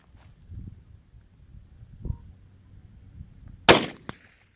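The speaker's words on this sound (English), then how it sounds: "Gonna take a few shots standing, a few shots kneeling." A single sharp rifle report from a Century Arms RAS-47 fired at a steel target outdoors, a loud crack near the end followed by a brief second impact, with quiet rustling and low handling noise before it.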